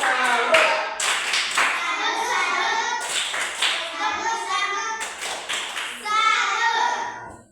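A classroom of children clapping their hands in bursts during a primary school science lesson, the claps sharp and close, mixed with children's voices chanting and talking throughout.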